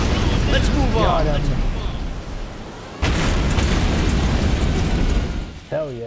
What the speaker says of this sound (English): Torpedoes hit.